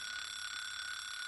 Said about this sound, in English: I woke up to the sound of a loud alarm clock, and I quickly turned it off.